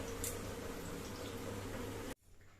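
Onions frying in a pan for chicken kosha, a steady crackling sizzle that runs continuously at moderate closeness before stopping abruptly.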